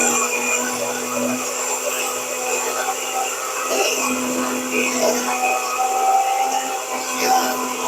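A NutriBullet blender grinds dog treat ingredients into a floury mix, a steady, loud motorized whir with a high whine that runs unbroken for several seconds.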